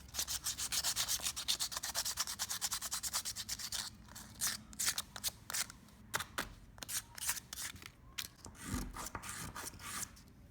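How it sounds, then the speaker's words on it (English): A recycled Corian fish hook is rubbed back and forth on sandpaper laid on a desk, giving rapid, steady rasping strokes that later turn slower and more uneven, loud and close. "Having the sandpaper on the desk is a great way for the fishhook design to get that nice smooth curve on the bottom."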